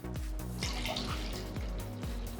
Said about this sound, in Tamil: ஸோ தேவையான அளவு தண்ணியை ஊற்றிக்கோங்க.